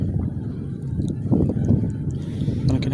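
Steady wind rushes and buffets around a small fishing boat out at sea, a loud, continuous low roar with gusting swells and faint knocks, no talk over it.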